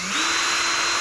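A Ryobi cordless hammer drill runs on its lowest power setting, 1, with the trigger squeezed gently: a steady, close, loud whirring motor that spins up briefly at the start and then holds an even pitch, with no talk.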